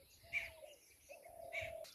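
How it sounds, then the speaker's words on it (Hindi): A bird takes off outdoors on a sunny day among trees, giving two soft cooing calls like a pigeon or dove, each paired with a brief higher chirp, fairly close and moderately quiet with faint ambient noise. "ये देखो ये उड़ा, ये वाला पक्षी"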